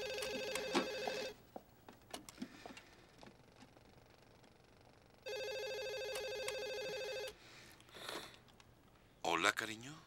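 A telephone rings indoors in two long electronic bursts separated by a quiet pause, fairly loud and close, with speech in between and after.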